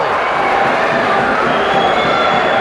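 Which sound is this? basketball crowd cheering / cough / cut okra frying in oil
basketball crowd cheering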